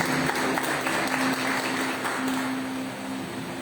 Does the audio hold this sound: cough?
no